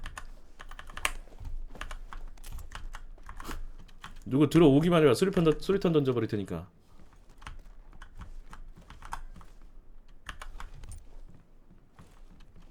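Rapid clicking of a computer keyboard during a PC game session, close and steady throughout, with someone talking over it and a louder voiced burst midway.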